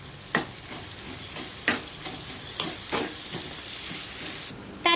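Ginger garlic paste frying in a pan for a Telangana fish curry, a constant close sizzle with several quick spoon scrapes and clacks against the pan as it is stirred.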